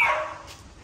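A pit bull gives a single sharp bark close to the listener, which fades quickly into a quiet background.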